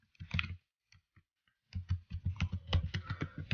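C++ code typed on a computer keyboard, heard as a few scattered clicks and then a quick, rapid run of close key presses, soft and alone.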